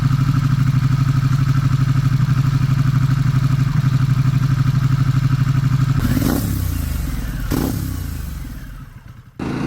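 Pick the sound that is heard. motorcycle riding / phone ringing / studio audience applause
motorcycle riding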